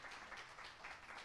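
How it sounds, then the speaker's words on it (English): Audience applause at a morning policy event on public banking options: a short, faint patter of clapping from a seated crowd, steady and without voices on top. "Can we get a round of applause for Porter?"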